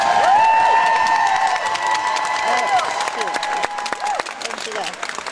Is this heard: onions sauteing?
no